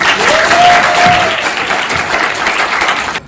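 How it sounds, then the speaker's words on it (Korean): Audience applause at a closing ceremony for a debate festival, a steady dense clapping from a crowd that holds loud throughout and eases slightly toward the end. "박수로 또 해주시기 바랍니다"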